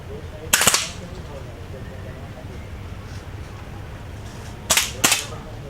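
Two pairs of sharp, cracking air rifle shots ring out at a military shooting range during basic training, a couple of seconds apart, over a quiet outdoor background with faint voices.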